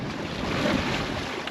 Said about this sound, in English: That wind's going to ease off in a minute.